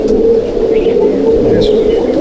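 A dense chorus of Malwai pigeons coos continuously in a crowded loft of about 140 birds in Halisahar, a loud, steady throbbing drone with occasional brighter chirps.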